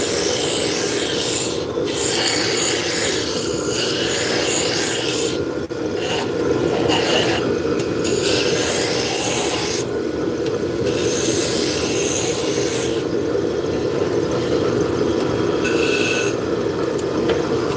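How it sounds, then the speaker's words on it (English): A wood spindle turns on a lathe as the tool rubs and scrapes the spinning workpiece, a continuous coarse grinding hum with repeated bursts of higher hiss from cuts, steady and close throughout. "so this is spindle turning"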